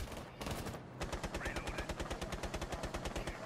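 Rapid automatic gunfire in the video game Rainbow Six Siege, a long steady burst of evenly spaced shots after a brief earlier volley, close and punchy at a fast regular rhythm.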